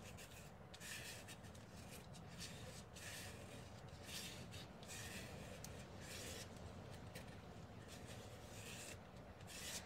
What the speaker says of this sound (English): the gesso's thicker, so I'm having to kind of scrape it a little bit more.